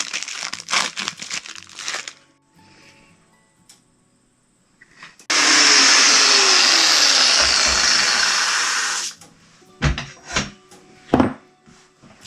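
A Benchmark Abrasives cutoff wheel cuts a slot in a battery terminal with a loud, steady grinding whine lasting about four seconds, amid clattering handling noises before and after.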